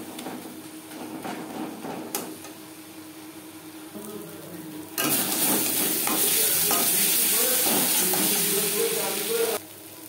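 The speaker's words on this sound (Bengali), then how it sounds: "লবণ হলুদ মশলা ও পেঁয়াজ টমেটোর সাথে বেশ ভালো করে মিক্স করে দেবো।" Salt, turmeric and spices stirred with onion and tomato for Bengali doi katla, a steady fry and sizzle with spatula scrapes that turns louder and hissier halfway through, then drops back near the end.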